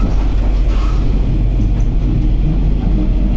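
A local village train in rural Japan runs past with a steady, loud rumble and clatter that stays close and constant throughout, with no voices.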